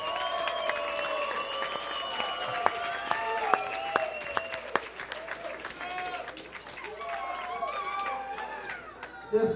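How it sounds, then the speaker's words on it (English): Crowd applauds and cheers for two fighters after a split decision at an amateur fight night, sustained clapping with crowd chatter and sharp individual claps, while an announcer's voice rings out over the hall. "give both these guys a big round of applause"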